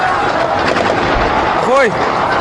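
Gunfire during unrest in Daraa, Syria: a heavy low thud stands out against a constant roar of crowd noise and shouting voices, with a short rising and falling wail just after it.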